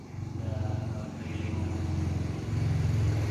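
A 1997 Suzuki Baleno driving after a power steering repair with aftermarket hose, its engine giving a steady low hum and drone that rises slightly toward the end, close and continuous.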